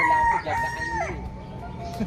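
A chicken with feathered feet gives a short, loud, high squawking call up close on a farm, then trails off into quieter background noise.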